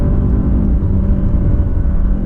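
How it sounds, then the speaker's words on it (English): Steady road noise fills the cabin of a 2019 Mazda 6 SkyActiv-G 2.0 on the move, a constant loud low rumble and whir with no voices over it. "You need to hear a little bit of road noise in order to enjoy your drive"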